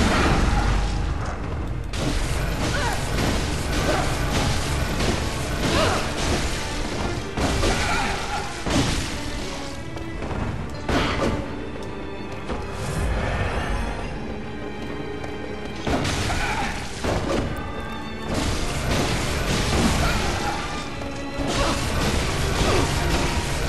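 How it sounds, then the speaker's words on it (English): Game audio from a Bloodborne boss fight: a busy, continuous wash of crashes, booms, thuds and whooshes as the boss unleashes a body explosion attack, loud and dense throughout with no speech over it. "That's a body explosion, so you gotta stay away from her whenever she does that."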